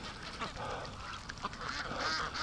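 Muscovy ducks and geese calling together outdoors, a busy overlapping chorus of honks and quacks from several birds nearby, steady throughout with no talk.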